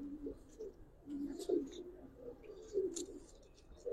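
Giribaz colouring pigeons, including a young male, cooing softly in a loft, several low throaty coos rising and falling in short bursts with faint chirps at intervals, close but quiet.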